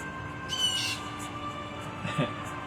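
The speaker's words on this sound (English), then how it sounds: "The birds singing in the background" Bird calls sound in the background, a high chirping phrase early on and another brief call near the end, over a low steady hum.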